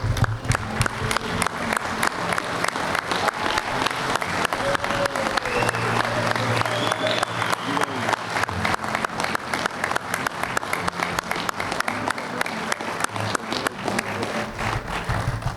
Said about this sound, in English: I think we should rise and give Richie a standing ovation for the job he's done.